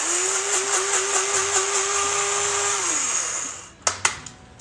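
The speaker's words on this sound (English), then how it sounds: "Coffee grinder works great for grinding up some seeds." An electric coffee grinder whirs steadily as it grinds seeds for a smoothie, a loud high whine that winds down near the end, followed by a few sharp knocks and clatters.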